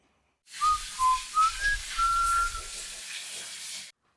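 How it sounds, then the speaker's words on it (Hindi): Someone whistles a short wandering tune of several notes over a steady background hiss of running water. "सीटी बजने की आवाज आती है,"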